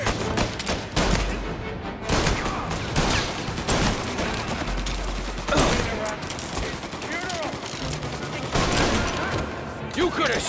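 A dense shootout in Mafia Remake near a staircase, with rapid, repeated gunshots and heavy bursts crackling throughout while voices shout over the fire.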